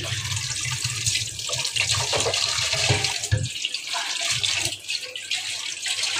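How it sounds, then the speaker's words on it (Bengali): Running tap water pours steadily while fish is washed under it in a home kitchen sink, a continuous close splashing hiss with brief shifts as the flow is interrupted by handling. "তো এখন আমি মাছটা ধুয়ে নিব।"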